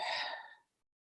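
A single soft exhale during a guided breathing exercise, a close, breathy rush that lasts about half a second and fades into silence.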